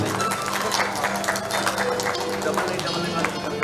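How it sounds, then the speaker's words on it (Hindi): A crowd at a Bihar Diwas celebration in New Delhi claps in a brisk, dense burst of applause, fairly close and loud throughout, with a voice faintly audible beneath it. "जोरदार ताली एक बार मधुबनी पैकेट के लिए होना चाहिए।"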